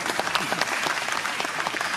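Loud, dense audience applause at an awards ceremony, steady many-handed clapping filling the hall throughout with no voices over it.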